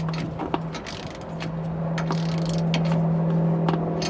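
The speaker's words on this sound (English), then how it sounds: "we can grab our torque wrench and finalize torquing our components" Torque wrench tightening the components of a Roadmaster Exact Center steering stabilizer, giving sharp clicks and ratcheting taps over a steady low hum, close and fairly loud.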